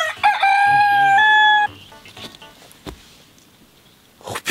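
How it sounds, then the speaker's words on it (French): A chicken, a hen seen in the countryside, gives a loud rooster-like crowing call up front, then falls quiet, with faint scattered clucks and rustling noises before another burst at the end. "Ah, donc c'est ça une poule."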